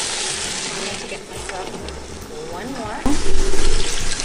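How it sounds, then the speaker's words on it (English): Water being poured into a pot of quinoa during home cooking, a steady splashing flow under conversation, with a louder rush near the end. "Be adding the water, 3 cups of water."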